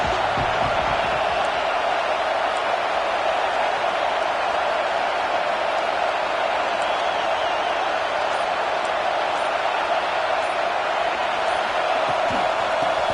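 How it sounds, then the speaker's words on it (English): A packed football stadium crowd at an SMU versus Washington game roars in a loud, steady wash of cheering that holds for the whole stretch, with no clear breaks. "This crowd going to try to make life miserable for these guys."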